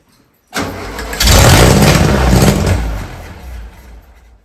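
Air-cooled VW Beetle engine, freshly installed and fed from a gas can, cranks and catches, running roughly at a loud steady level before easing off slightly, with no talk.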